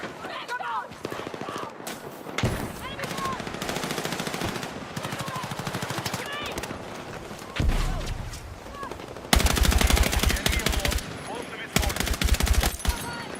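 Video game gunfire emptying a full magazine, rapid automatic bursts rattling in dense strings with brief pauses and sharper loud volleys toward the end, over a busy game background.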